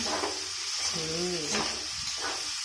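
Long-cut potatoes fry in a pan as they are stirred, a steady close sizzle with scraping strokes while a voice hums or talks briefly in the middle.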